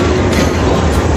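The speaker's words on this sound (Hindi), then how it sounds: "तो एक वो लोकोमोटिव जा रहा है" A railway locomotive moves through Abegum station on the Sibi to Quetta line, giving a steady, loud, broadband diesel rumble with a low drone that holds evenly throughout.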